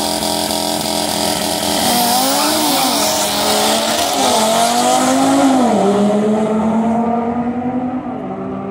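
Audi race cars in a hill climb roar past at full throttle, engines rising and falling through gear changes, loud and close, then fading as they pull away.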